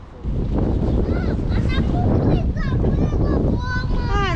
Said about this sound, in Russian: Но ветер, конечно, мама мия.